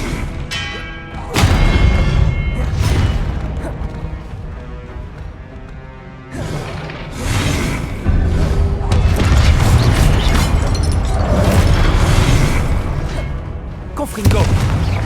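An Expelliarmus spell cast in a video game lands as loud booming thuds and bursts, several heavy impacts rolling one after another, with a voice heard among them.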